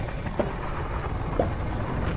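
Thunder in the horror video game Those Weeks At Fredbear's 4: a low, steady rumble with rain-like hiss running throughout, plus two faint soft knocks, moderately loud with no voices.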